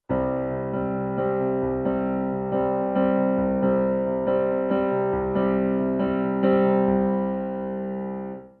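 Piano chords played in a guitar-style strumming pattern, steady repeated rhythmic attacks over sustained ringing harmony, alone with no talking.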